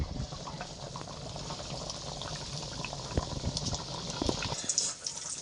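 Flour-coated chicken pieces frying in hot oil, with a steady close crackling, bubbling sizzle that holds throughout and grows a little livelier near the end.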